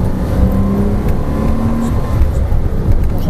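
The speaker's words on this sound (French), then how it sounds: "tu accélères de plus en plus fort" A Porsche Cayman S accelerates hard on a race circuit, its engine note a steady, loud, close-up drone that climbs in pitch as speed builds, with no pauses across the whole stretch.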